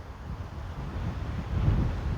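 Steady wind buffets an open microphone at the Vani Vilasa Sagar dam, a low roaring rumble that swells slightly toward the end, with no talking.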